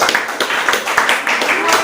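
Students in a classroom clap for a group during a mathematics lesson, a close, lively run of clapping with quick, uneven beats and voices mixed in.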